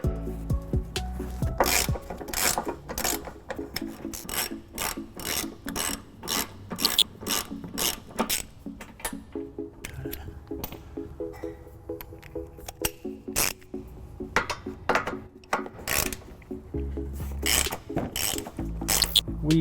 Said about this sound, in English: So let's go ahead and take those down. We're going to use an 18mm socket and a 15mm socket